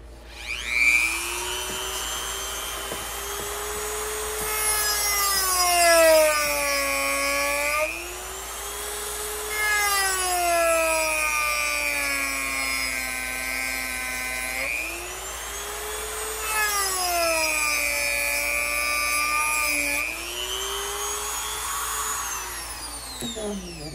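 DEPSTECH DM180 rotary tool run at speed setting three, a high motor whine that swells and dips in long cycles as it speeds up and slows, steady and close with no talk.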